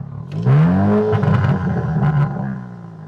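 The exhaust of an MG7 car revs loudly up close, rising and falling in a throaty burst before settling back.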